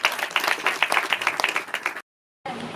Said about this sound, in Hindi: क्या ताली बजा सकते हैं?